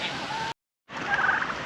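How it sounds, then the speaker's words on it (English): Bronze turkeys on a free-range UK smallholding, gobbling in two loud bursts split by a short silent gap, heard close by with no talk over them. "They're bronze turkeys."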